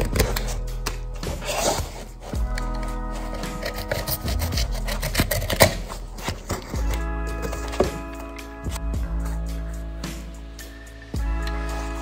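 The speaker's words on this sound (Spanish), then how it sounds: "vamos a cortar con la cuchilla todo el exceso de los pliegues" A blade slices and scrapes through excess fabric folds on ballet pointe shoes, giving a run of close, uneven cutting and rubbing strokes with short sharp clicks, no voices.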